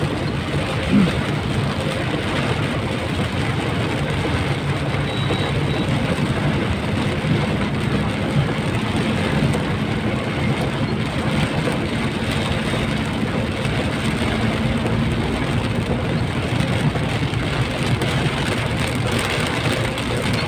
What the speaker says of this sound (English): driving in extremely heavy rain conditions